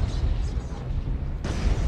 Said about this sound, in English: Must have got an ammo explosion on that one.